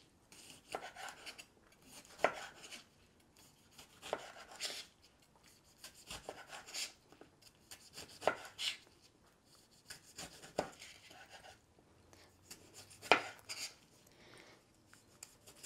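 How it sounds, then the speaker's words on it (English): Tomatoes are chopped with a knife on a board, with irregular soft thuds and scraping strokes spaced a second or two apart, quiet and close, with no voices. "This is how I chop my tomatoes."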